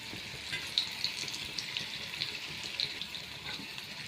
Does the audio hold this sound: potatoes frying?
yes